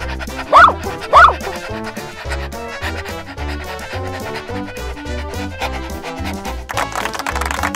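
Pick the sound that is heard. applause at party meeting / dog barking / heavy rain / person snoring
dog barking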